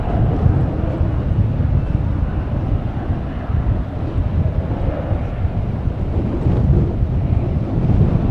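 Strong wind gusting across an airport runway, roaring and buffeting the microphone continuously with loud, low rumbling and no pauses.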